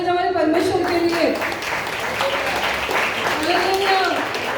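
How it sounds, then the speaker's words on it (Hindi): A church congregation claps for God in a loud, continuous wash of applause while a preacher's voice carries over the top. "जोरदार ताली बजाओ हमारे परमेश्वर के लिए"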